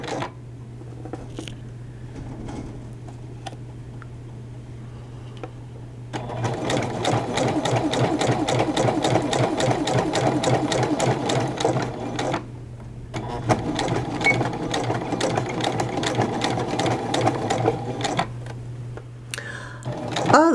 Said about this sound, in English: pocket top stitching in progress